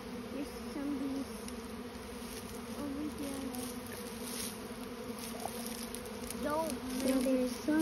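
A swarm of bees fanning at a bait hive makes a steady, dense buzz close by, rising a little toward the end, with no voices over it.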